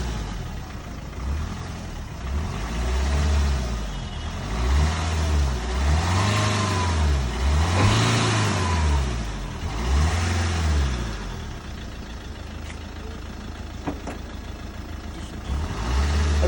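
A Maruti Ritz car engine, driven 250,000 km, revs repeatedly as the accelerator is pressed, giving a rhythmic rising and falling roar close by, then settles back toward idle.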